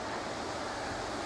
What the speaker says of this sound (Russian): Еще с вечера поднялся ураганный ветер